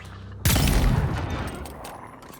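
A single heavy gunshot booms from a gun in the video game Avowed, a loud sudden blast followed by a long rumbling tail that slowly fades, with no talk over it.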